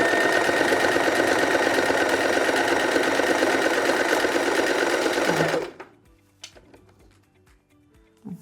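A sewing machine stitches a small zigzag in a fast, steady mechanical whir for about five seconds, then stops abruptly, leaving a few faint clicks and handling knocks.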